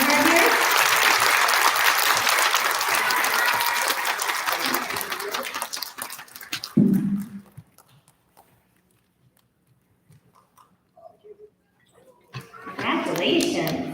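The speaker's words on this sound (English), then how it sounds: "Can we get a round of applause for all of our kindergartners?" Applause from an elementary school audience at a student recognition event for kindergartners, loud sustained clapping for several seconds that fades away, followed by quiet and a voice at the end.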